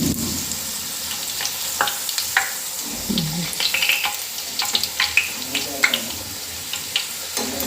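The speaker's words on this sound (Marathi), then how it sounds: "एक एक करून करंज्या तळाला सोडूया। दोन्ही साईडनं करंज्या तळून घ्यायच्या।" Karanji pastries, dropped into hot oil one at a time, deep-fry with a soft continuous sizzle, broken by occasional bubbling pops and light scraping clicks near the pan.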